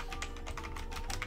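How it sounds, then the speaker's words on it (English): Quick, quiet taps on a computer keyboard, typed in a steady run with no talking. "And now start typing correctly."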